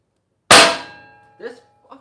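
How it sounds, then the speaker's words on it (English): One sharp, loud metallic clang from a hammer striking a metal front bumper for a 2023 Honda Pioneer 520, ringing out and fading over about a second, followed by two brief, faint knocks. "This hammer works."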